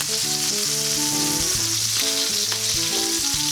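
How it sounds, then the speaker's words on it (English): Sausage patties frying on a griddle give a steady, bright sizzle that runs the whole time beneath louder background music. "I hate greasy sausage patties, so I flip mine a lot"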